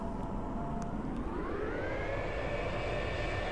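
Light aircraft engine steadily throttles up to full power for takeoff, a loud continuous drone whose pitch rises smoothly as it accelerates, heard from inside the cockpit.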